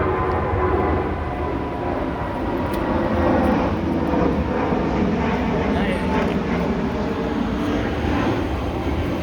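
An airplane passes near an airport, a broad, loud, continuous engine rumble on an outdoor hike, steady throughout.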